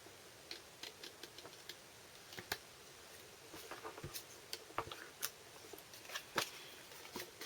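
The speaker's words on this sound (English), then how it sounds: "get our scissors out and cut off the excess" Scissors trim excess Stampin' Up! designer series patterned paper at a crafting table. Soft, irregular snips and small clicks come close and quiet, in uneven clusters, with no talking.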